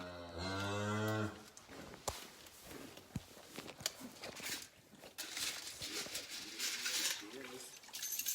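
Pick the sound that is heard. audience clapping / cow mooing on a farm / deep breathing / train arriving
cow mooing on a farm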